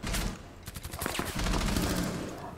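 Rapid gunfire in Rainbow Six Siege, dense bursts of shots rattling close and loud, with quick repeated cracks in the middle and a sustained roar of fire throughout.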